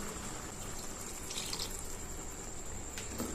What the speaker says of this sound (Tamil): நான் மிக்ஸி ஜார்லயே கொஞ்சமா தண்ணி சேர்த்து இது கூட ஆட் பண்றேன்.